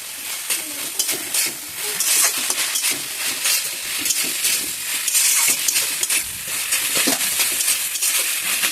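Ginger and cumin paste sautés loudly in a pan, with rapid repeated scraping stirs and bright crackling sizzle running continuously up close.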